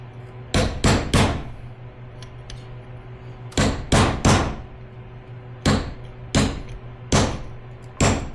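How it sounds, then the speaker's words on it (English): A metal punch is hammered against lock washers on a Yamaha YZ85 engine: sharp, close metallic taps in quick clusters of three, repeated with short pauses between groups, no talking. "Take a punch, tap it back down flat."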